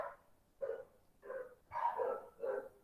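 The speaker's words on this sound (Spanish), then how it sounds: "Es la perra del vecino." A neighbor's female dog barks outdoors while a gardener works nearby, with five evenly spaced barks at moderate distance, the later ones coming closer together.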